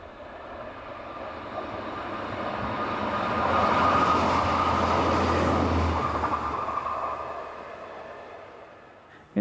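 Passenger train 628565 on the Mühldorf to Traunstein line passes at the top of a gentle incline, a broad rumbling roar that swells to a peak midway, then fades, with no talk over it.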